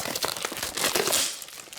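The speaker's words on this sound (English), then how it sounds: "going to open that plastic" Plastic wrapping is torn open close up in a short burst of sharp crinkling and ripping that lasts under two seconds.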